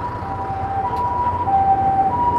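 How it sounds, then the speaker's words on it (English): A wailing ambulance siren on a Tokyo street alternates between two tones, loud and sustained over steady traffic rumble. "There goes the ambulance."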